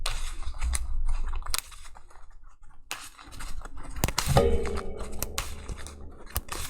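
Sleeved trading cards for Japanese card games, about 20 to 30 in Titanshield sleeves, being shuffled by hand: a run of quick, dry riffling clicks and plastic flutters, close and moderately loud, with no talk.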